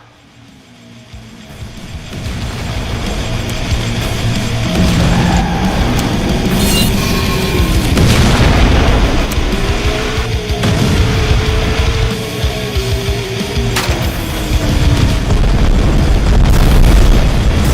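Repeated explosions and booming weapon blasts in the Twisted Metal 5 fan game, loud and sustained with heavy rumbling bursts layered over engine drone and in-game effects; a voice speaks briefly.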